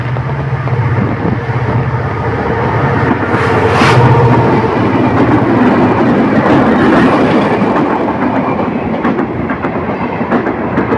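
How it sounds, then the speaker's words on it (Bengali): The Benapole Express passenger train, 795 Up, runs past through a storm of gusty wind and rain, a loud rumbling roll with rhythmic clickety-clack of wheels on rails that swells mid-pass and then continues steadily. "দমকা হাওয়া এবং বৃষ্টির মধ্যে ছুটে আসছে বেনাপোল এক্সপ্রেস ট্রেন"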